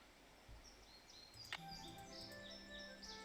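Bird calls in the Nancy Drew: Ghost Dogs of Moon Lake video game: several soft, high chirps and whistles repeating over a steady low ambient hum, with one sharp click partway through; faint and distant in tone.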